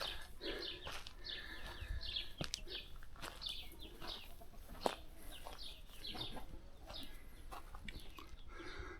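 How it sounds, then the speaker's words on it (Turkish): Chickens cluck and chirp steadily in a noisy outdoor setting among old stone buildings in Güzelyurt, several birds calling at once, fairly close. "Tavuk var mı? Hala tavuk var."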